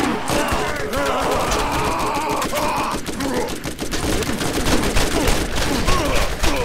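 Rapid bursts of assault rifle fire from the video game Borderlands crackle continuously, dense overlapping shots with game effects, loud throughout and without pause.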